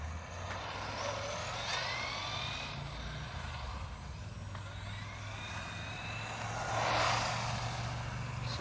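A 1989 Optima Mid Custom Special RC race buggy with a 240 ST electric motor runs on tarmac, its whining motor rising and falling in pitch as it passes near and far, under a steady low background hum.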